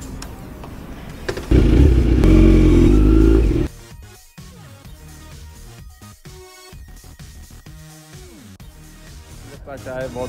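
A motorcycle engine roars loudly for about two seconds during a Sunday ride, then someone talks over lower road and engine noise.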